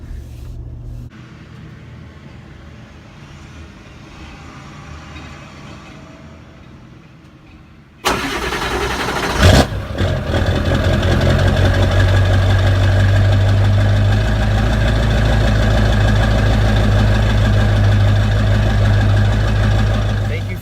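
A 7.3 engine cold start: after a quiet stretch it cranks briefly and fires, then settles into a loud, steady, rumbling idle with a knocking edge.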